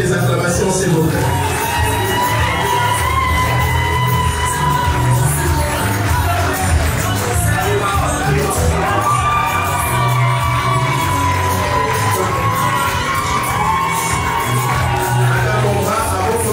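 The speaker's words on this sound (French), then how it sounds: "Évidemment avec des acclamations, s'il vous plaît." Wedding guests cheer and whoop loudly as the ring goes onto the bride's finger, a dense, sustained crowd roar with shouts and some children's voices mixed in, steady throughout.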